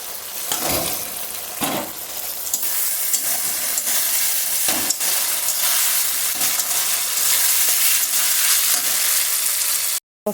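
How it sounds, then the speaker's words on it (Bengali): Potatoes frying with spices in oil, a loud continuous sizzle broken by periodic scrapes of a spatula stirring them through the pan, close and steady before cutting off abruptly near the end. "এই পর্যায়ে এখন আলুটা আমি মশলাটার সাথে একটু নাড়াচাড়া করে তারপর জলটা দেবো।"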